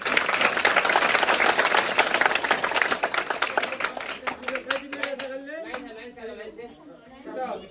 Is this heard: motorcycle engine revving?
no